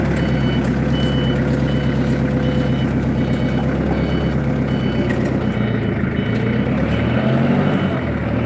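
A forklift sounds its reversing alarm in a workshop setting, a loud, regular train of electronic beeps repeating steadily over a continuous engine rumble, with no talking.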